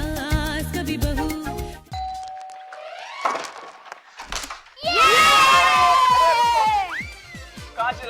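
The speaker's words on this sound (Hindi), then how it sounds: "कहाँ चिल्ला के भाग रहे हो तुम लोग?" A group of children shout excitedly while running, loud overlapping voices over a bright chime-like musical sting and busy background music.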